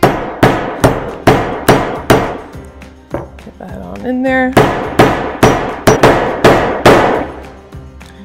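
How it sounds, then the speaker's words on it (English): A steel hammer, struck side-on, taps a spindle bushing into its bore in a series of about a dozen sharp, evenly spaced metallic knocks, loud and close, with a short spoken remark partway through. "I like to use the side of the hammer when doing this"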